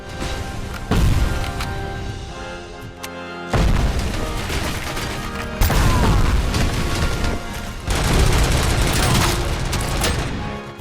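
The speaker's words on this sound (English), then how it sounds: "the Cobra Cannon of course is great, but not that good at close range" The Cobra Cannon fires in the video game RoboCop: Rogue City, four heavy booming shots spaced a couple of seconds apart, each followed by crashing, rumbling debris, loud and close.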